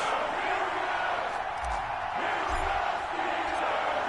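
Stadium crowd noise from an EA Sports football video game, Houston Texans versus Pittsburgh Steelers, a steady dense roar of cheering spectators with a few low thumps, continuous throughout.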